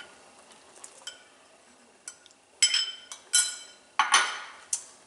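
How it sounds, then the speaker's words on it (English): A spoon stirs cornstarch slurry into simmering teriyaki chicken and shrimp sauce, giving sharp clinks and scrapes against the pan that grow denser and louder toward the end over a faint quiet bubbling background. "we'll just stir that in and wait for it to thicken the sauce for us"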